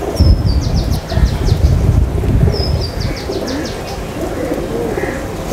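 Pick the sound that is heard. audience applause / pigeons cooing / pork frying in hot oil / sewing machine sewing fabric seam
pigeons cooing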